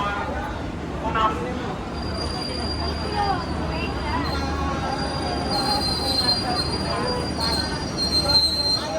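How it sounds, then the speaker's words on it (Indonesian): The Pasundan Lebaran passenger train pulls in at platform 6 of a crowded Indonesian station, wheels squealing in a high sustained whine over a low rumble, with crowd chatter throughout. "kereta api Pasundan Lebaran udah tiba di jalur 6"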